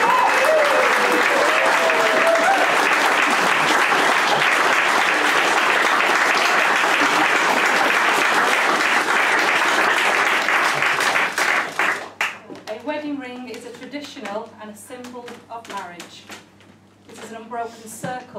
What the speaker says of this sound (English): ladies, with a round of applause